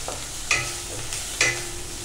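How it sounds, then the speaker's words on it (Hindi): Garlic sizzles in a pan of hot oil, a steady frying hiss broken by two sharp scrapes of a spoon stirring it, close and with no voices. "अब जो है मैं इसमें गार्लिक डाल दूंगी। अब इसको मैं सौते कर लूंगी।"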